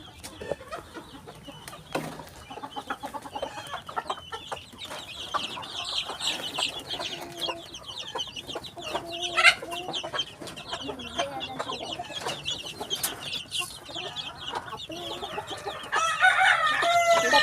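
Chickens cluck and chatter nearby while a rooster crows, with occasional quiet speech in the background.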